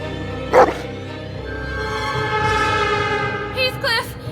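A dog chasing off intruders outside a house barks sharply once, then yelps and whimpers near the end over a sustained tonal background.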